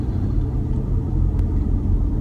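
A BMW 5 Series F11 530d xDrive Touring diesel cruising along the road, heard from inside as a steady low rumble with faint road noise throughout, no talking.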